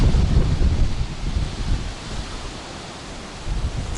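Strong gusting wind roars outdoors at night beside an RV, buffeting the microphone with heavy low rumble that surges at the start, eases through the middle and swells again at the end.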